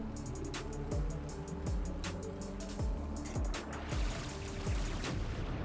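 Rapid, repeated bursts of anti-air gunfire from a boat in Trailmakers, sharp bangs in quick irregular clusters over the droning engine of a Ju-87 Stuka dive bomber.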